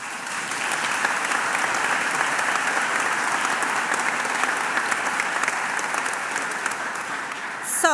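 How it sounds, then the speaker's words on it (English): Sustained applause from a graduation ceremony audience, steady and dense throughout, with no break in the clapping. "I think this deserves an applause"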